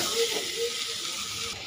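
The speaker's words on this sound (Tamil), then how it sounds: "அம்மான் பச்சரிசி மசாலா எல்லாம் போட்டு க்ளீனாக வந்து நல்லா ஃப்ரை பண்ணி நல்லா வதக்கிருக்கோம்" Masala with amman pacharisi herb frying in a pan for a Tamil thuvayal, a steady hiss and sizzle close by, continuous throughout with a faint undertone.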